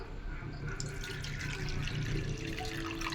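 Toor dal being rinsed with water inside a pressure cooker, a soft, steady swishing and trickling of water throughout with faint drips, fairly quiet and close.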